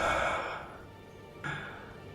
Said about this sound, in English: Like the heavy breathing in this, you can hear the labor, that like half breaths